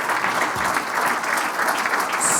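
Audience applause for conference panelists at an industry event, a brief, dense burst of many hands clapping, even and sustained throughout.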